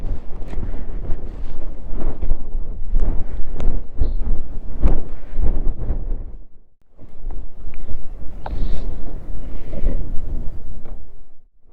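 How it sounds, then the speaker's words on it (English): Strong wind in the Atacama desert buffets the microphone in a loud, continuous roar with gusty surges and one brief lull partway through, no voices. "Where's the wind coming from? Everywhere."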